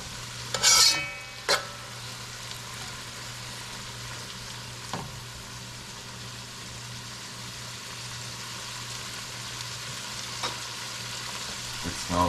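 Okra and smoked fish cooking in a pot, a faint steady simmer throughout, broken by a couple of sharp utensil clanks near the start and a few softer knocks later, with no talking.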